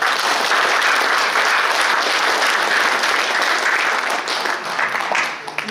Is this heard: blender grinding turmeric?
no